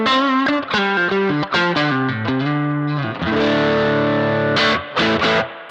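An electric guitar played through a Boss Katana amp with the spring reverb set high, a quick picked melodic run followed by sustained ringing chords that trail into a bright reverb wash, loud and close.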